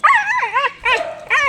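Milo, a pet dog, gives several close, loud yips and whimpering whines in quick succession, high-pitched and rising and falling, with short pauses between.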